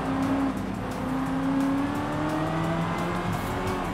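A Camaro race car engine in the video game Forza Horizon 5 roars loudly and steadily, its pitch gliding up and down through shifts, with faint tire noise underneath.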